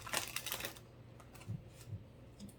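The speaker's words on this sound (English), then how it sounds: "Let me give this a good shuffle." Tarot cards being shuffled by hand, a quick burst of riffling and flicking near the start that fades into soft, sparse card taps and shuffling.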